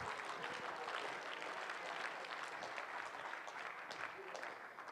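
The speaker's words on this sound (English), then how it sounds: "How about a round of applause for Phil?" An audience claps for a presenter at a conference session, a dense, continuous patter of many hands held steady for several seconds, fairly far from the microphone.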